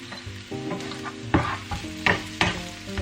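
Onion and garlic sautéing in a pan for IKEA-style meatball sauce, a loud close sizzle broken by repeated spatula scrapes and clatters against the pan, with no talk.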